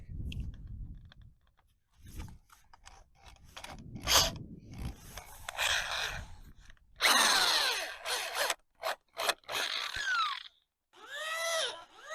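Short bursts of a power drill whirring and grinding start and stop irregularly during restoration of a hand-cranked crane, some loud and close, separated by brief pauses and handling clatter.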